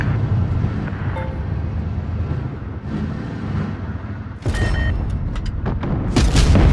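A tank cannon in an online tank battle game fires a high-explosive shell, heard as a few heavy booms and blasts over constant rumbling engine and battle noise, the loudest bursts near the end.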